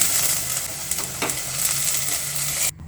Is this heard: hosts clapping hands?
no